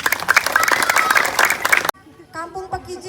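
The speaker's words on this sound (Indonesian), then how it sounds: "Tepuk tangan dulu." A crowd at a youth and community gathering in Kampung Pekijing claps loudly for about two seconds, then the applause cuts off abruptly and a voice follows.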